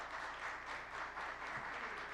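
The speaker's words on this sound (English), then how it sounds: "Congratulations to all the winners, and applause again" An audience applauds award winners at a ceremony, a steady, fairly faint patter of many hands clapping throughout with no break.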